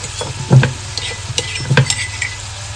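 Curry leaves dropped into frying onions for a dry prawn dish, crackling and sizzling loudly with bursts of spattering pops and a few utensil clinks, close up over a steady frying hiss.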